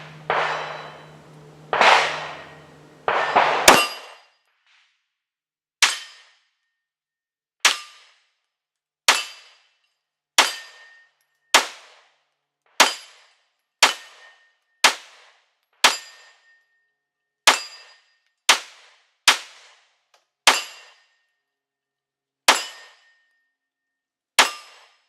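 A Glock pistol fitted with a Primary Machine Stealth comp fires about sixteen loud, sharp single shots at a steady, unhurried pace, each with a quick decay, after some brief handling noise at the start.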